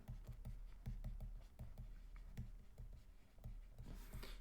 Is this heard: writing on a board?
yes